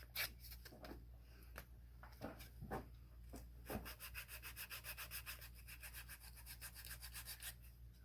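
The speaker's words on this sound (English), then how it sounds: "The 120 grit will move a surprising amount of wood" Wooden knife scales are rubbed against 120 grit sandpaper in rhythmic back-and-forth strokes, scattered at first and then quick and steady, close but quiet, with no talking.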